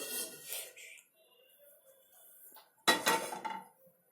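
A pan being picked up and handled in a home kitchen, with a few light metallic clinks and knocks early on, a quiet stretch, then a sharper clatter of metal near the end.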